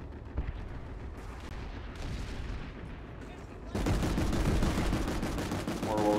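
Gunfire in Planetside 2 aimed at a bunker, dense and continuous shots that grow louder and fuller about halfway through, with a brief burst near the start and a few quiet voices underneath.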